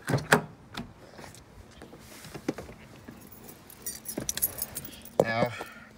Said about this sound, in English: Grab your keys